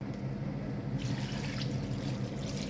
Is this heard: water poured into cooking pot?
yes